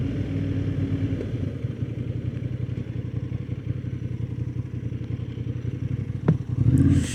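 A Honda CB750 Hornet motorcycle rides through the countryside, its engine a steady, close, pulsing drone that runs continuously, with a brief burst of wind buffeting near the end.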